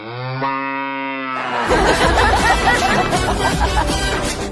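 A large buffalo gives a deep, drawn-out moo, loud and close, which gives way after about a second to a burst of noisy commotion.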